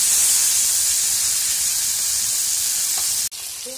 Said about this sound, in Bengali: মাংস ভাজার তেলের মধ্যে আলুগুলো ভেজে নিল।